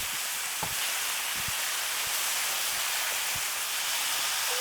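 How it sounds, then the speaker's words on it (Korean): Thin slices of pork belly sizzle steadily in a hot pan, a close, constant hiss with occasional soft pops and no talking. "대패 삼겹살은 금방금방 빠르게 익어가지고 요리하기 참 편하고 좋아요"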